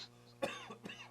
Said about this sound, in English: Now you made me cough.